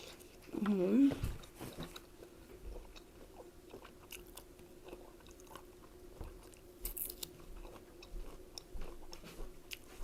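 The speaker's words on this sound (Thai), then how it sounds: "วันนี้พาทุกคนมากินตำแครอทกับผักป่า" Someone bites into and chews a crunchy carrot salad mixed with wild vegetables, giving a close, sharp crunch early on, then softer, quieter chewing that carries on faintly.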